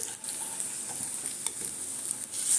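Fritters of poppy seed and pumpkin seed sizzle in a generous amount of hot oil, a steady close bubbling hiss with occasional soft pops and stirring, and no voices.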